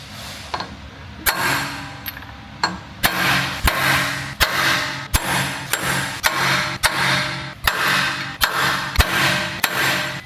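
A socket is hammered to knock the collets out of a Landcruiser rear wheel bearing hub: a close, loud series of sharp metallic strikes, each followed by a short rasping scrape, repeating in a fairly regular rhythm.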